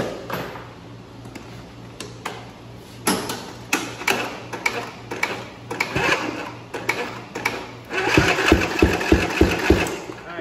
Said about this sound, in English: then we're going to crank it over and listen to it.